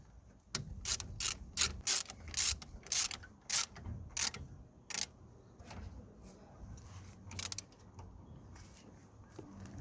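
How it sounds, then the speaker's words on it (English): A ratchet clicks in quick rapid bursts, then slower strokes, while tightening the 13mm brake caliper bolts on a Toyota Yaris, close and fairly quiet, with no talking. "Just gonna tighten the bolts now."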